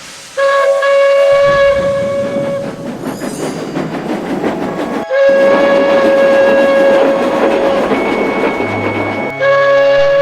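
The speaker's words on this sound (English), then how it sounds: "she could still hear the ghostly whistle behind her" A loud, sustained steam train whistle blows in long chords over heavy hissing and rumbling, pausing briefly before sounding again.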